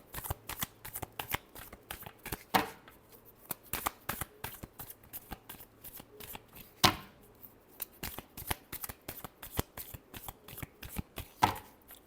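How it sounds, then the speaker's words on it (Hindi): A deck of tarot cards is riffled and shuffled by hand in quick, crisp bursts of flicking and slapping, close and fairly quiet, with short pauses between rounds. "last shuffle"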